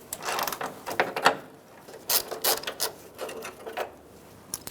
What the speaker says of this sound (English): Using a 10mm socket again